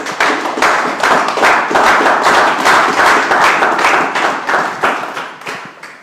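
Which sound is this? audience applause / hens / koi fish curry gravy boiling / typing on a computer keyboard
audience applause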